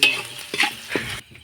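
Dal cooking in a pot on high flame is stirred with a utensil, giving a few short scraping strokes and clinks over a steady sizzle, loud and close, with no talking.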